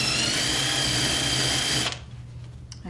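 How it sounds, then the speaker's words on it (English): A power drill whines loudly and steadily as it bores a hole, then cuts off abruptly near the end, leaving quieter room noise. "we are going to drill a hole in it"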